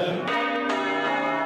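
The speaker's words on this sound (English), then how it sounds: "Church bells ringing across Europe for peace in Ukraine." Church bells ring loudly and richly, with overlapping peals and a humming resonance that sustains throughout.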